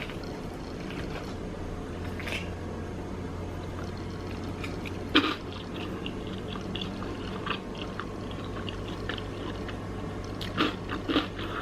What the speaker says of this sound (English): The croutons are crunchy